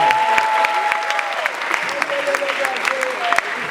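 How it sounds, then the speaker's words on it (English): Audience applause fills a finance conference hall in Lagos, a steady dense patter of many hands clapping throughout with scattered sharper claps, while a voice speaks faintly underneath. "Please a round of applause for yourself."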